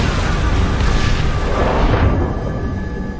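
A deep, rumbling blast of gunpowder in Assassin's Creed IV: Black Flag rolls out and fades over a few seconds, a loud explosion with a heavy low-end boom.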